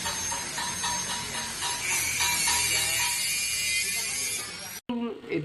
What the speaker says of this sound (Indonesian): banyak suara asing yang masuk, terutama dari suara produksi di bengkel las yang kami wawancarai